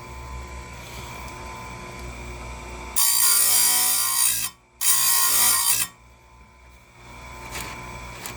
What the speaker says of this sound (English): I'm sharpening my saw blades. Chains.